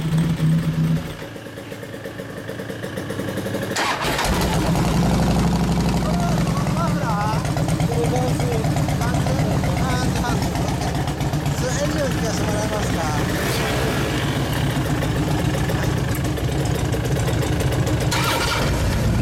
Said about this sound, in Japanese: エンジン音聞かせて